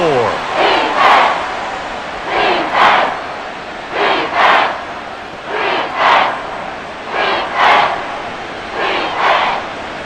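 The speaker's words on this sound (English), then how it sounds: "Well, this crowd into it now." Video game stadium crowd at a Madden NFL 24 football game between the Las Vegas Raiders and Miami Dolphins, swelling into loud roaring cheers in repeated surges about every second and a half, continuous throughout.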